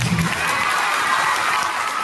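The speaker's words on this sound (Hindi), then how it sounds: "सर के लिए एक बार जोरदार ताली बजाइए" Students at a coaching institute anniversary celebration in Patna cheer and applaud for their teacher, a dense, loud burst of crowd noise lasting a couple of seconds.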